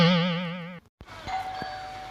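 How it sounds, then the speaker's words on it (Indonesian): A doorbell chimes with a wavering, electronic two-tone ring, followed after a short pause by faint knocks and a thin sustained tone in a quiet house. "Seseorang memencet bel rumah Kel"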